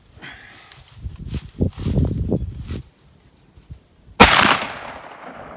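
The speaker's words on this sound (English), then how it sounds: "I have not shot one of these through this gun, so we'll see what happens." A 16 gauge gun fires a single .600 caliber roundball outdoors on a range. The one sharp, loud report rings briefly after some quiet shuffling and movement nearby.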